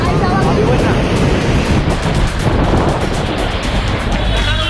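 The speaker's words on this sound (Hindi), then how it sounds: "समंदर से उठी करीब 10 फीट ऊंची लहरों के शोर से एकाएक मुंबई सहम सी गई।" Dense, steady roar of high-tide sea waves churning close by in Mumbai, a constant loud wash with wind noise on the microphone and no clear breaks.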